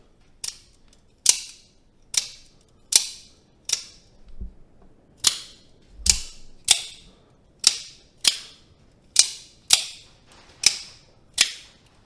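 An OTF automatic knife snaps its blade out again and again, giving about fourteen sharp, crisp pops in a steady rhythm, close and loud against a quiet background.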